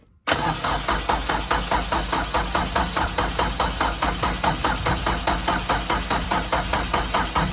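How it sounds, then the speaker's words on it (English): A Kubota tractor's diesel engine, a B3030 or L3301, cranks over in sub-zero cold with gelled fuel, the starter grinding in a loud, steady rapid pulse close by without catching, for several seconds. "Pull your stop, and then crank the engine over"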